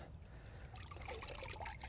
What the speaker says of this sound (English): I'm going to dunk it again in the water.